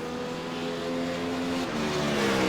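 A 4GT race car laps the road course during the 12 Hours of Road America endurance race, its engine a steady, strained drone that slowly builds in loudness over the whole stretch, with no talk over it.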